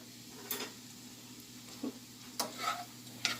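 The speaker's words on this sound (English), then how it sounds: "It's sauteing on medium heat here." Vegetables for shrimp boil stuffed potatoes sautéing on medium heat, a quiet steady sizzle broken by a few brief scrapes of a utensil stirring in the pan.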